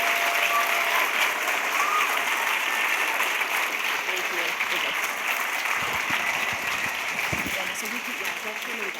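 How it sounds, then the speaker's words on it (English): A room full of people claps continuously in dense, sustained applause that fades slightly toward the end, with a voice briefly audible beneath it. "And one final round of applause for Rachel Giese and Abbi."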